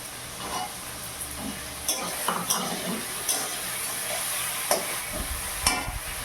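Peas tipped into a hot pan for a Bengali bhola fish curry, frying with a steady sizzle while a spoon scrapes and stirs against the metal in several sharp clinks.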